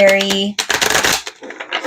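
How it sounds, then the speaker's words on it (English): Tarot cards are shuffled by hand in a quick riffling, fluttering burst up close after a short spoken word, then softer card handling follows. "let's shuffle it one more time"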